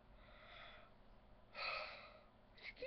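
A person yawns with drawn-out breathy exhalations, two soft airy swells a moment apart, close and quiet with no speech.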